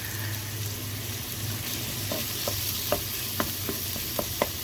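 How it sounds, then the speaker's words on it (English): Bacon sizzles and fries in oil in a pressure pot with a steady, close crackle, and a few sharp pops and utensil taps come toward the end. "I'm going to let that bacon cook down a little bit."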